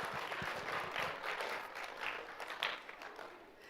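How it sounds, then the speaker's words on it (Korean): A ceremony audience applauds after a certificate of appreciation is handed over at a graduation and orientation event, a steady, moderately distant wash of clapping that fades slightly toward the end. "우리 감사하는 마음을 담아 크게 박수 부탁드립니다."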